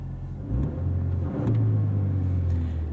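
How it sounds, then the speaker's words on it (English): A 2024 Toyota Tacoma TRD Sport with a 6-speed manual gearbox drives along with a deep engine rumble inside the cab. The engine note swells twice as it picks up revs, then settles into a steady drone. "today we're driving the all-new 2024 Toyota Tacoma"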